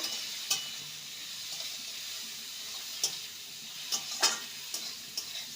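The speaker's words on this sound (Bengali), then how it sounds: "আমি একেবারেই লবণটা দিয়ে দিলাম ভালো করে নেড়ে নেব" Salted ridge gourd sizzles quietly in a pan, a soft steady frying hiss punctuated by several sharp scrapes and taps of the spoon as it is stirred, no voices.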